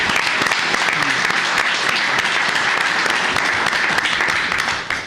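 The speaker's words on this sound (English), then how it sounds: "Let's give you a round of applause." Mothers in a county commissioners court meeting room receive a sustained round of applause from the audience, loud, dense clapping that holds steady before tapering off at the very end.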